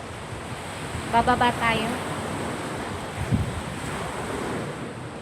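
Strong ocean waves roll onto a beach as a steady broadband wash blended with wind buffeting the microphone, and someone speaks briefly over the surf partway through.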